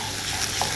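A spoonful of tomato puree is stirred in a hot, sizzling pan, with a short burst of steady frying hiss and soft scraping.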